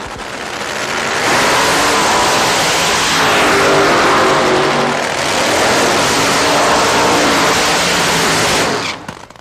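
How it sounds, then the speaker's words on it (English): A funny car drag racer holds a long burnout, its engine roaring loud and close at sustained high revs for several seconds, swelling and easing slightly before cutting off at the end. "Austin Coyle had the engine tune that it didn't overheat during these long burnouts"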